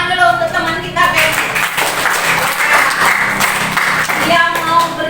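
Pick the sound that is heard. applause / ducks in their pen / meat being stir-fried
applause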